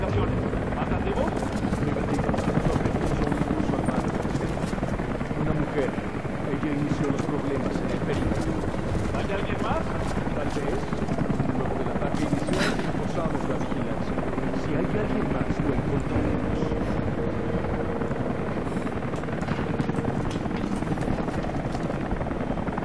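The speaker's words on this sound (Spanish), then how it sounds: "el último helicóptero partió" Helicopter departing in the video game Rise of the Tomb Raider, a steady loud rotor drone running throughout under game ambience and occasional voices.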